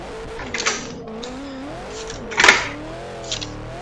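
A four-door Nissan Skyline R32 revs and wavers while drifting, its engine note rising and falling through bursts of tyre noise, with two sharper peaks standing out against a constant motor drone.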